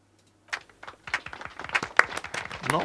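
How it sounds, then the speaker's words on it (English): A sparse, scattered clapping starts after a brief silence, irregular and thin, like only a few hands applauding in a mostly empty cafeteria in Disco Elysium. "A rather lonely applause echoes through the mostly empty cafeteria."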